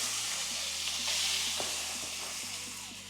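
Very hot cooking oil sizzles loudly in a pot over an open fire, giving a dense, continuous crackling hiss close up with no talking.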